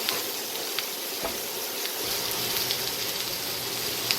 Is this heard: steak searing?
yes